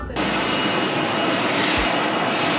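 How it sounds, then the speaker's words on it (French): Jet engines of the US presidential airplane roar in a loud, steady broadband rush that starts abruptly and holds, with no talk. "l'avion présidentiel de Donald Trump a mis le cap sur le Qatar"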